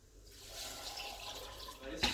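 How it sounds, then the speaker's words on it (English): Water pours into a pot of cooked chickpeas, a soft, steady trickling splash that grows slightly and ends with a brief louder knock, heard fairly close and quiet. "Now I'm going to add some water."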